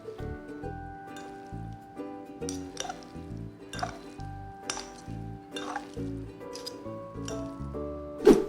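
Pancit canton noodles are tossed and mixed in a pan, with repeated clinks of a utensil against metal and soft squishy stirring in an irregular rhythm, fairly close and with no talk.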